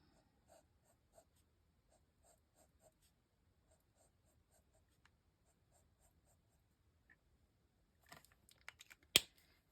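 A red alcohol marker colors candles on a handmade party card: quiet, scattered scratchy strokes of the felt tip on paper, then a busier flurry of marker scribbling and a sharp tap at the end.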